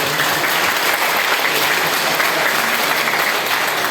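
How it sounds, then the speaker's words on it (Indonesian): An audience at a parish leadership training session applauds a priest, a dense, steady roar of many hands clapping continuously, with no talk over it. "marilah kita beri tepuk tangan kepada Romo Catur"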